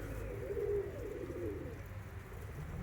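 A German Viennese pigeon coos in a low, throaty rolling call inside an aviary, steady and close against a faint background hum.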